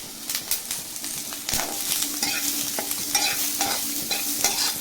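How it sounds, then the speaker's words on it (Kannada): Vegetables with a pinch of pepper powder sautéed in a pan over a high flame, with repeated scraping stirs over a lively sizzle, close and fairly loud. "ಇಷ್ಟು ಹಾಕಿ ಫುಲ್ ಹೈ ಫ್ಲೇಮಲ್ಲಿ ಸಾಟೆ ಮಾಡ್ತಾ ಇದ್ದೀನಿ"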